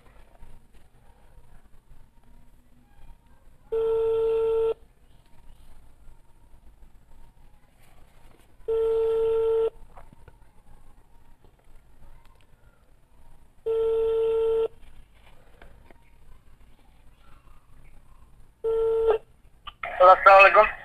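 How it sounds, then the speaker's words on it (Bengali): A phone call rings out on the line. A steady two-tone ringback pulse repeats four times, about five seconds apart, clear against near silence, and a burst of noise follows right at the end. "আমি এই নাম্বারটিতে একটু ফোন দিব"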